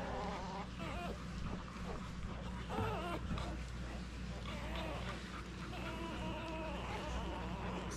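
Week-old English Springer Spaniel puppies whimpering and squeaking while they nurse, a busy cluster of faint high cries and mewls over a steady background hum.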